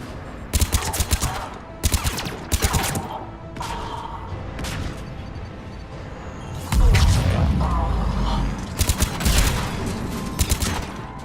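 Cannon fire in the video game Mass Effect 3 sounds as loud, repeated bursts of rapid gunfire, with heavier booming blasts midway over a rumbling battle background.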